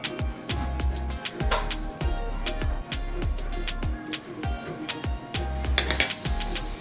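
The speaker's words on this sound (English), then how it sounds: "we have to get a spoon or fork and we spread it" Red onions spread with a spoon or fork while a grilled steak sandwich on a Kaiser roll is assembled, producing repeated clicking, scraping utensil taps at close range, irregular but busy throughout.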